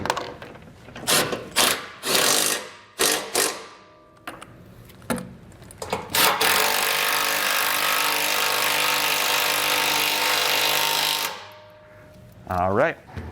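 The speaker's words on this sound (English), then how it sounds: "we used a 1/2-inch socket to tighten down the self-tapping screws" A power driver with a 1/2-inch socket drives self-tapping screws during an air helper spring and compressor install, with several short, loud bursts followed by one long, steady whir, close up.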